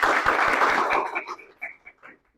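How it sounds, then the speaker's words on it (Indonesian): Audience at a university teaching session in Indonesia clapping in a short burst that thins out into a few scattered claps and fades to quiet. "tepuk tangan dulu"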